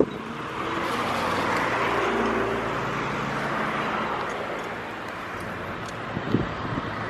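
Steady road traffic beside a parking area, with cars passing and a continuous roadway rumble mixed with wind buffeting the microphone, and a couple of sharper bumps near the end; no one speaks.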